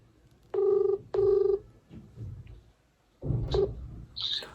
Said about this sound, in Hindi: फोन क्यों काट रहे हो बार बार?